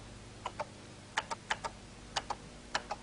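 Soft keystrokes on a computer keyboard, about nine separate clicks coming in short pairs with brief pauses between, faint and close against a quiet background hum.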